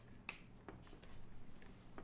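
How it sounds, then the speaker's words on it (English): A muffled hand clap, soft like a golf clap, lands once as a brief quiet pop, followed by faint scattered sounds over low room noise. "I will clap my hands. It's muffled."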